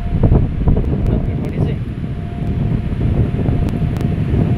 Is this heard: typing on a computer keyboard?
no